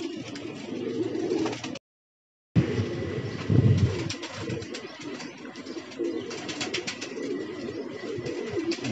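Pigeons returning to their loft coo softly in low, repeated murmurs under strong wind and outdoor rustle, with one brief gap of silence.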